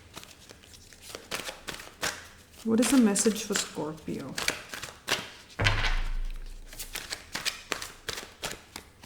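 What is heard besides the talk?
tarot cards being shuffled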